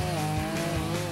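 A chainsaw cutting a wooden piling roars steadily at close range, its engine droning loud and continuous through the brief moment.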